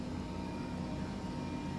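A twin-engine H135 helicopter in Microsoft Flight Simulator gives off a steady low engine and rotor drone with a faint turbine whine, constant and fairly quiet, with no talking.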